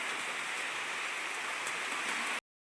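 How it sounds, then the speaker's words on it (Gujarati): Steady, dense hiss of heavy rain pouring without a break, then it cuts off abruptly near the end. "વરસાદ એક જ ધારો ચાલુ છે"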